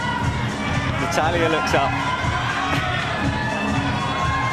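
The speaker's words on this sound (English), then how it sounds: "you can hear the crowd starting to get behind her here" Crowd at an IFSC climbing World Cup combined women's final in Morioka, Iwate, cheering and shouting continuously and loudly as a climber nears the top, with a commentator speaking over it.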